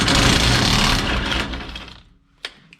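Power tool zinging a single 15mm bolt off a Ford F250 Super Duty 6.0L Powerstroke truck, a loud dense buzzing whir that runs about two seconds and cuts off, followed by a brief sharp clack.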